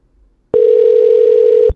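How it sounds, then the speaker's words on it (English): A telephone dialing tone sounds as one steady electronic beep, held for about a second, loud and close. It starts abruptly after near silence and stops with a click. "You hear that sound? That means I'm dialing."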